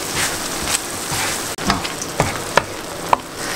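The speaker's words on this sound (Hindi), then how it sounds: "इस मसाले को मैं बहुत अच्छे से भूनना है," Homemade tawa masala frying and being stirred in a hot pan: a loud, continuous sizzle with several sharp scrapes and taps of the spoon against the pan, close up and without talk.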